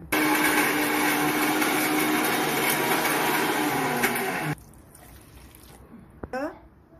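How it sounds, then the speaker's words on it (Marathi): A kitchen mixer grinder whirs loudly and steadily as it grinds spice masala for a home-style bean pod curry, running continuously for about four and a half seconds before cutting off, followed by quieter handling noises. "मिक्सर मध्ये मसाला टाकलेला आहे"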